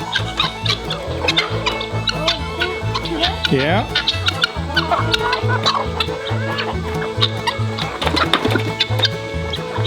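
Chickens cluck and squawk near a garden fence as they peck at tossed tomatoes, with steady rhythmic clucking throughout and a voice briefly speaking.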